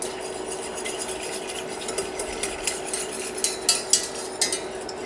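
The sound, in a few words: stirring agar agar mixture in a pot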